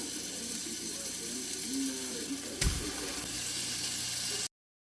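Butter is dropped into a hot pan to cook: a steady, close sizzling hiss runs throughout with a brief louder crackle midway, then cuts off abruptly.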